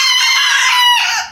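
Young roosters crow in a loud, close, strained call lasting over a second, with a shaky breaking tone as their voices develop, heard alone without talk.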